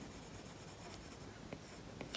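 A stylus draws and erases on a tablet screen in the Procreate app, giving soft, faint scratchy strokes with a couple of light taps against a quiet background.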